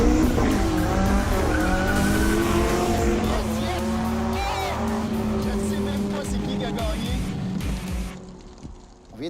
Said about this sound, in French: Patinage complet de ce côté-là.